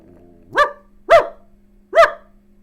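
A person imitates a dog with three short, evenly spaced barks, voiced and fairly loud, over a quiet background hum.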